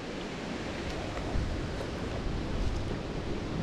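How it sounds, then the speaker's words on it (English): Strong, gusting wind from an approaching front roars over the Murray River, a steady loud broadband rush that swells in brief surges, with no voices. "Wow, it's getting windy."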